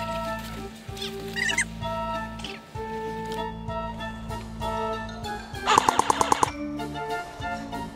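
Airsoft guns firing during a game outdoors, with scattered single pops and a brief rapid burst of shots, amid background ambience.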